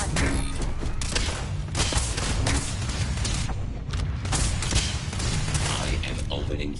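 Dense, continuous gunfire from a Starfield firefight, overlapping shots and heavy booms packed tightly together, loud and close throughout.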